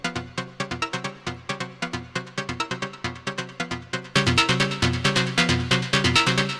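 Arturia MicroFreak synth sequence playing a rapid, evenly pulsed pattern of short plucky notes, growing louder and grittier partway through as overdrive kicks in, alone without talk.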